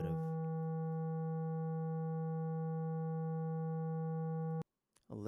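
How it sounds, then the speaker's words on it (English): A sustained synth pad patch built in Reaktor holds one steady, rich harmonic chord at even loudness for several seconds, then cuts off abruptly, followed by a brief moment of talk. "so we got a pad as our second sound right here"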